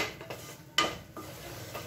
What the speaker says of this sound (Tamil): இந்த பொடியை வந்து ஒரு ரெண்டு நிமிஷம் வதக்கிக்கலாம்